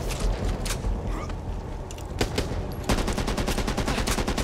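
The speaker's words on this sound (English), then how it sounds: "Machine gun!" Machine gun fire in the video game Back 4 Blood: scattered shots at first, then a fast, even burst of rapid rounds, loud and close, with mechanical clatter between bursts.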